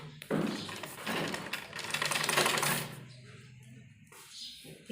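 A domestic sewing machine stitches the folded-in edge of a cotton baby frock, a busy mechanical whirring run for a few seconds that stops abruptly, followed by brief quieter handling noises.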